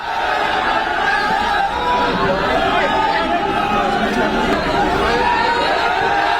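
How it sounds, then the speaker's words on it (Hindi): Large crowd gathered outside the Udaipur court: dense, continuous chatter and murmuring voices from many people, steady and loud throughout with no single voice standing out. "ये आप देख रहे हैं उदयपुर कोर्ट के बाहर लोगों की भारी भीड़ थी।"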